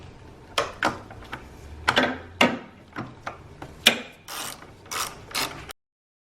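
Ratchet wrench tightening a 13 mm bolt on the battery hold-down of a 2015-2023 Chevrolet Trax, a series of close, sharp clicking bursts in uneven rhythm, repeated pulls with short pauses, no talking.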